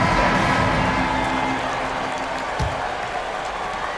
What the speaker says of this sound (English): And please give a big round of applause for the Bucks.